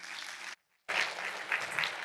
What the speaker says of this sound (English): Please give a huge round of applause to our next speaker